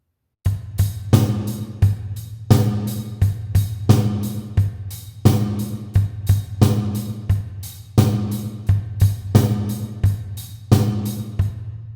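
A drum kit plays a steady groove in which bass drum, snare and hi-hat push and pull against the beat, loud and close with evenly repeating hits and no talking.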